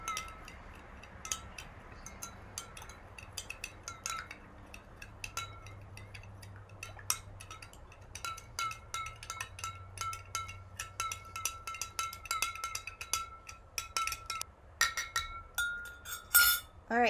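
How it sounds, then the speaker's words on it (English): A spoon stirs a tablespoon of salt into water in a glass, giving repeated light clinks and taps against the glass that grow busier and denser toward the end, close and fairly quiet with no talk. "we're first going to start with just adding 1 tablespoon of salt. And we're going to mix."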